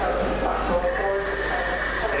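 A train running out of Doncaster toward Kirk Sandall, heard from inside as a steady low rumble with a rising whine and a sustained high electrical tone, fairly quiet throughout.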